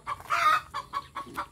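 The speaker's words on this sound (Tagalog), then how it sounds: "Nakakak yung manok." A chicken clucks nearby in a quick series of short, nasal bursts, one drawn-out squawk followed by several clipped clucks, with no talking.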